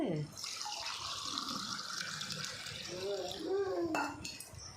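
Hot water is poured in a village kitchen in Odisha early in the morning, a close, steady liquid splash and trickle that runs throughout, with a few light clinks near the end.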